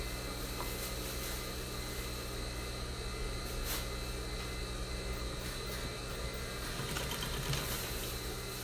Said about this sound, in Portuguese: Passar a costura aqui e segurar as pregas